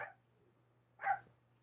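A dog gives two short, sharp barks about a second apart, moderately close, over a faint steady electrical hum, with no talking.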